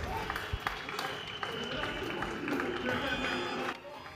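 A crowd applauds steadily and densely at moderate distance, the patter of many hands running the whole time with voices mixed in.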